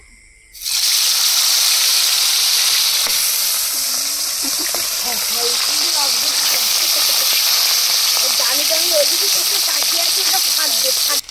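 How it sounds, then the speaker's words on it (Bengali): Small rohu fingerlings dropped into hot oil, bursting into a loud, close, continuous sizzle that starts abruptly and crackles steadily throughout. "তেল গরম হয়ে গেছে। প্রথমে ছোট এই চারাপোনাগুলো ভেজে নেব।"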